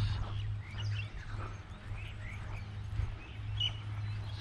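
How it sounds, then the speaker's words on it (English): Small birds chirp and tweet in an open suburban park in Melbourne, Australia, scattered short calls at moderate distance over a low steady rumble of background noise. "Let's watch these birds."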